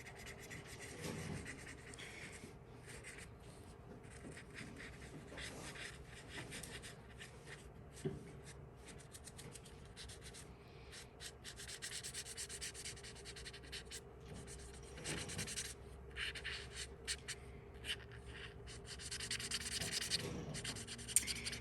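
A chisel-tip green marker colors along the edge of embossed paper leaves in soft, faint, repeated scratchy strokes, close up and quiet, with no talk.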